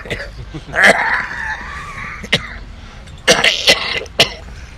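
A person coughs and clears their throat several times, harsh and close, with a strained raspy cough followed by a few sharp short bursts.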